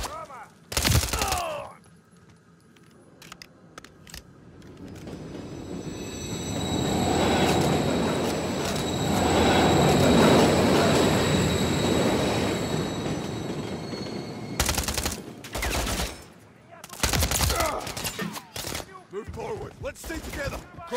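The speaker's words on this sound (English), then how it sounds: "Watch the trains." Trains rumble and roll past in a Call of Duty: Modern Warfare III campaign mission, with a loud sustained rush of wheels and carriages mid-clip, bursts of gunfire and sharp impacts around it, and brief voices.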